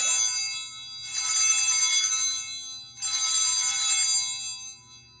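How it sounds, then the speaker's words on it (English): A small altar bell is rung at the elevation of the chalice during Mass, two bright jingling bursts of shimmering chimes, close and clear, fading between rings. "So the 3 times you ring the bells, the epiclesis, when you see the hands, the elevation of the host, and the elevation of the chalice"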